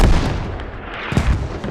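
Mortar fire in a competitive squad match of a war video game on the Chora map: heavy rumbling booms, one at the start and another about a second later, loud with a long low roll and no talk.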